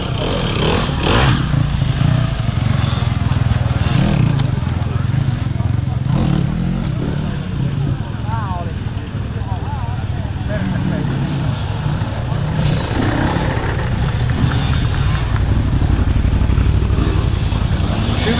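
Enduro motorcycles, including a Sherco, crawl over log obstacles during an extreme enduro prologue race, with a steady loud engine drone and clattering throughout while a commentator talks over it.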